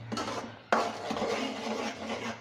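Semolina for suji halwa is stirred and roasted in a pan, with a steady close scraping rustle and one sharp knock of the spoon against the pan partway through.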